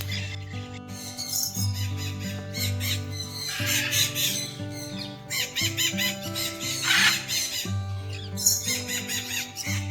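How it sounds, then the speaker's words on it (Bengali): Several macaws in a large forest aviary let out harsh, piercing squawks and squeals in irregular overlapping bursts, loud and close, with no talking. "ম্যাকার গুলোর আওয়াজই প্রখর এখানে।"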